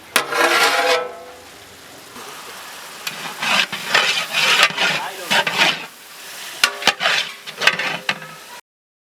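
Tomatoes with a pinch of salt stir-fried in a pan for veg biryani, a spatula scraping and stirring in repeated bursts over a steady sizzle, close and fairly loud, with no talking.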